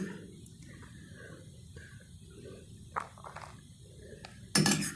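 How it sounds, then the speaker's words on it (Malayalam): Rice for a homemade chicken mandi is spooned onto a plate, with light clinks and scrapes of metal utensils against dishware, including a sharper clatter near the end, over a quiet room. "ഇനി കുറച്ച് റൈസ് ഇടാൻ പോവാണ് ഇപ്പം റൈസ് ഇടാം"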